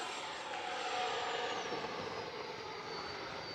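A FMS Dassault Rafale 80mm electric ducted-fan model jet flies past during a maiden flight, giving a steady high-pitched whine and rushing roar that stays constant and loud throughout, with a tone that slowly drops as it moves.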